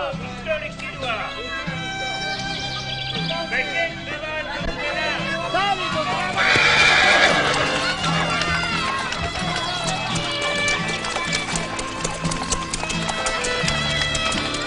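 Horses running with clip-clopping hooves and an occasional neigh, steady and fairly loud throughout, mixed with crowd noise and speech.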